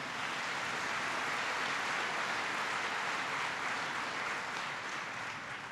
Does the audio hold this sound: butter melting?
no